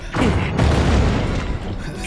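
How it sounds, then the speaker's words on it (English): A large explosion in the video game Zelda: Tears of the Kingdom booms loudly and rumbles on for about two seconds, heavy and close, with no speech. "Large explosion, apparently."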